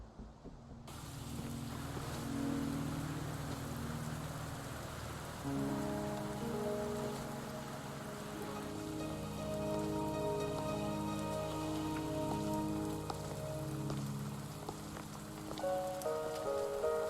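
Steady rain falling and pattering on surfaces in the video game Wuthering Waves, continuous and fairly soft, with sustained musical tones layered underneath and no speech.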